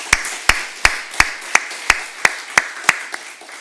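Steady hand clapping of encouragement at an evening church service, about ten sharp claps at an even rhythm, with faint room noise between them and no talking.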